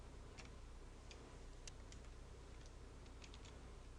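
Computer keyboard keys pressed in a few quick, sparse clicks during accounting entry work, faint and close, over a steady low hum with no talk.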